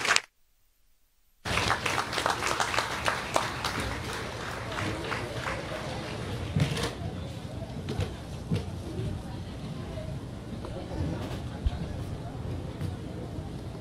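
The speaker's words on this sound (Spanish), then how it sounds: "Lo recibimos, por favor, con un fuerte aplauso." An outdoor crowd at a Guatemalan highway inauguration applauds President Giammattei, with dense, steady clapping that starts abruptly after a brief silence and carries on evenly to the end.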